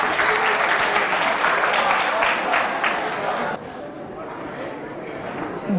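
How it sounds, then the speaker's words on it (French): A school audience claps loudly and steadily to welcome a student from Lycée Idriss Miskine to the stage. The applause fades off partway through, and a few voices are heard under it. "Nous allons applaudir aussi pour recevoir l'élève représentant le lycée Idriss"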